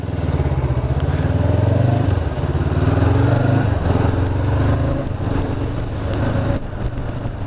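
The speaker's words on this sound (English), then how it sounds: "It's got the parallel twin thumping away below me there." A 2019 Honda CBR500R parallel twin motorcycle engine runs steadily and loudly up close, a throbbing, thumping drone that holds an even pace throughout.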